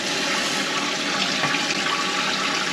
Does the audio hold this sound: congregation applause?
no